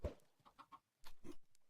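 Chickens in the Minecraft video game give a handful of short, quiet clucks in an irregular burst, several quick blips followed by louder paired clucks, with no talking.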